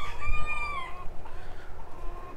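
Backyard chickens are heard near and loud, with one rooster's long cock-a-doodle-doo followed by scattered low clucking in the quiet morning air.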